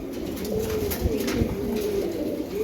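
Giribaz pigeons coo softly and repeatedly at close range, a steady run of low throaty calls with a few light knocks beneath.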